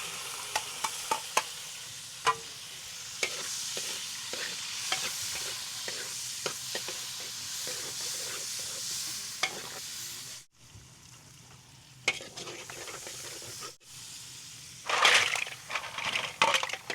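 Food sizzling steadily in a hot pan while a utensil stirs and scrapes it in a repeated rhythm, at a fairly low level, with a few sharper clinks near the end.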